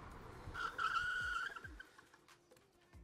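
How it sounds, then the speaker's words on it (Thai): An Apollo City electric scooter brakes hard with hand brake and regenerative braking applied together, giving a sustained high tire squeal lasting about a second that fades as the scooter stops, with road rumble underneath. "ผมจะกดเบรกทุกอย่างเลยเนี่ยทั้งเบรกมือทั้งเบรกรีเจนกดให้หมดเลยครับ"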